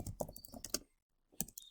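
Quick clattering keystrokes on a computer keyboard, a close, fairly quiet flurry of taps that stops for a brief silent pause, then resumes with a few more presses.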